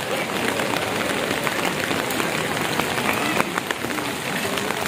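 Heavy rain pours down in a dense, loud, continuous roar, drops pelting a surface close by, at the Shah Jalal shrine in Sylhet.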